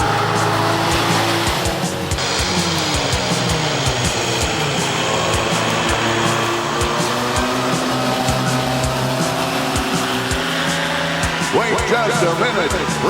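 A race car accelerates hard with a loud, sustained engine roar, rising and shifting in pitch, with tire squeal and a brief burst of skidding, under an excited commentary voice.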